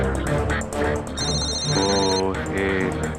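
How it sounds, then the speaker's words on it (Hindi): A phone rings close by, a repeating electronic ringtone with a bright melodic pattern, running steadily through the moment. "आपका फोन बज रहा है"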